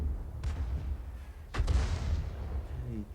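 A 105 leFH18B2 artillery gun firing in World of Tanks: one booming shot with a long rumbling tail, preceded by a fainter distant report, over a constant low battle drone.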